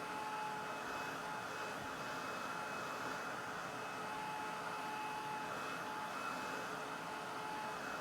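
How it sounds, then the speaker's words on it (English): A Ranger heat tool blows a steady, even whooshing roar across watercolor paper to dry it, running unbroken and close with a faint whine on top. "we'll dry it off here with the Ranger blower. This is called a heat tool."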